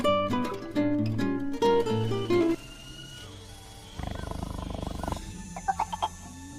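A tiger roars in the jungle during a scene from the film Anacondas, with a deep rumbling roar under music and other film sound, followed by quieter rhythmic growling.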